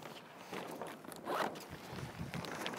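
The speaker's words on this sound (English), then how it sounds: "zip up all your cams." Several short zipping sounds as the sail cams on a Moth sailboat are zipped up during rigging, close and fairly quiet.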